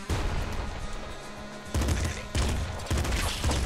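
SMG fire in the video game Nuclear Throne: loud, rapid bursts of crackling shots that come in several sharp volleys, each burst kicking in abruptly after a short gap.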